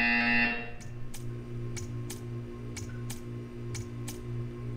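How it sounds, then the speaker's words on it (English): In the Portal 2 video game a short buzz sounds at the start, followed by a series of sharp, evenly spaced ticks over a steady low electronic hum. "You will hear a buzzer."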